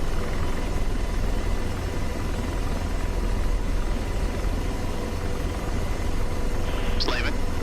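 An Apache AH-64D helicopter in slow flight in DCS World makes a constant loud rotor and turbine drone with no break, and a short chirp near the end.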